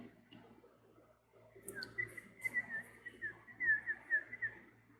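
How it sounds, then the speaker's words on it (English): Someone whistles a short, wavering tune of several breathy notes, faint and close, over a quiet low hum. "This is the extent of my whistling capabilities."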